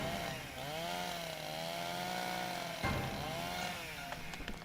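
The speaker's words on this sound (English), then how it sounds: "You gonna chainsaw me to death?" A video-game chainsaw revs in a steady, loud, buzzing drone, its pitch sweeping up and down in waves, with a sharp burst near the middle and rattling bits toward the end.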